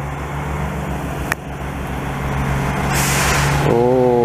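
A Peterbilt 379 truck rumbles past on a snowy Montreal street, its engine droning loudly before a sharp hiss of air brakes and a rising whine near the end.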